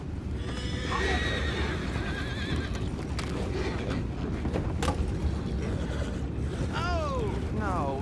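Horses whinny and neigh in Red Dead Redemption 2 over steady clip-clopping hooves and an outdoor wind bed, with a sharp whinny near the start and two rising neighs near the end.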